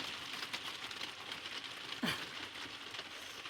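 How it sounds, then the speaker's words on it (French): Rain falls on the roof of a camper van as a soft, faint patter, with a brief louder knock partway through. "Oh ouais, il pleut."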